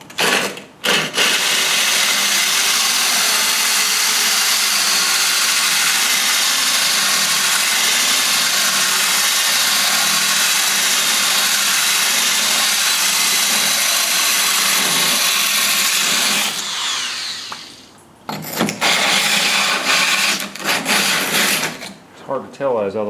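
A diamond drill bit grinds a hole through tile laid on plywood, a loud continuous whining buzz that holds steady for about sixteen seconds, then drops off and cuts back in briefly as the bit finishes through.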